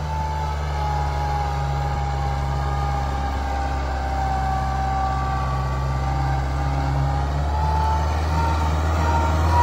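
A Kubota MU 4501 tractor engine drones steadily while pulling a back harrow across a field, a loud, continuous low hum with a constant pitch and no pauses.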